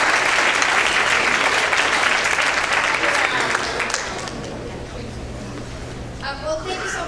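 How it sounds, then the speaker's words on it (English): Audience applause at a school district's State of Education address, a steady wash of clapping that fills the room for several seconds before gradually thinning out, with a few voices emerging near the end. "give them a round of applause as they walk up here"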